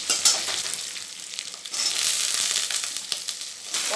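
Eggplant sautéing in a pan for a Bengali mustard eggplant dish, a steady bright sizzle with scraping stir strokes throughout, close and fairly loud with no talking.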